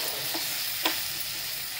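Cauliflower, capsicum and peas sauté in a pan for veg pulao, a soft steady sizzle with a couple of brief stirring scrapes, close by.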